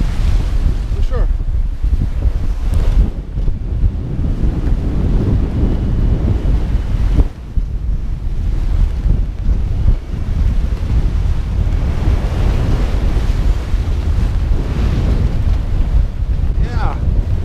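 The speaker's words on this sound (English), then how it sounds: "the waves are picking up a little bit" Crossing the North Sea by sailboat in wintertime, loud wind buffets the microphone while waves surge and wash against the hull in a constant, heavy roar that continues throughout.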